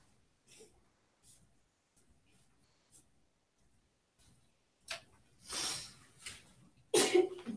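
A single sharp sneeze bursts out near the end after a stretch of faint rustling and a couple of soft, brief noises, fairly close and louder than the quiet room.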